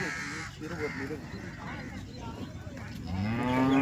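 A cow lows at the Loni cattle market, a rising moo near the end over a busy background of crowd noise, talk and crows cawing.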